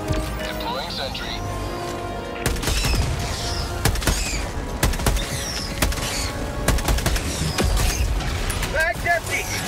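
Automated sentry turret in Helldivers 2 firing in bursts of sharp, loud gunshots over a dense battle din of other weapons and mechanical noise, with a voice speaking over the action.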